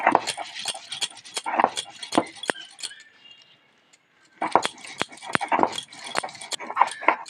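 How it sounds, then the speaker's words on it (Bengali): Fresh ginger is ground by hand on a stone slab in a village kitchen, making a run of quick, rhythmic scraping and knocking strokes. The strokes pause briefly, then resume close and fairly loud, with no talk over them. "এবার ওটা আদা বেটে নেব।"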